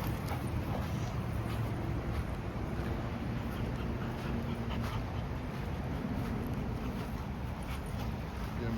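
Rottweilers in a pack make soft whimpers and panting, fairly faint and steady against a windy outdoor background, with no talk.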